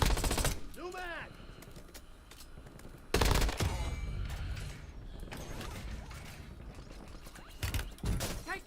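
Automatic gunfire and a bolt-like mechanical click in the battle royale video game Call of Duty Warzone, with sharp bursts and rattling shots over a busy layered game soundscape and brief voice chatter.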